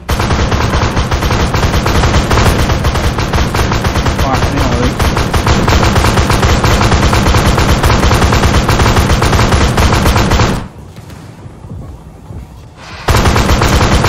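Loud, continuous machine-gun fire in a military video game mission with an AS21 Redback vehicle, rapid rattling bursts for about ten seconds, a brief quiet gap, then firing resumes.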